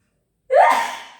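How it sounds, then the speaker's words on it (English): A single sharp sneeze bursts out after half a second of silence, close and loud, trailing off into a breathy exhale. "sorry, I knew I was going to sneeze."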